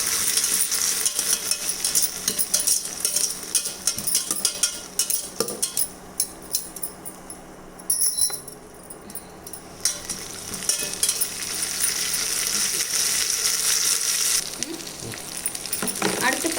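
Chicken kuzhambu ingredients sautéing in a kadai, with a steady sizzle and frying crackle and intermittent metallic clinks and scrapes of a spoon stirring the pan, close up throughout.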